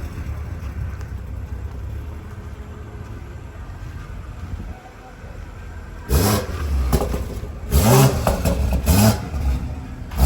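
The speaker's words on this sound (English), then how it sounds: "I'm gonna let y'all hear what it sound like with a downpipe and a tune." BMW 540i fitted with an aftermarket downpipe and tune, a steady engine drone that breaks into several loud, sharp revs in the last seconds, heard close up with no talking.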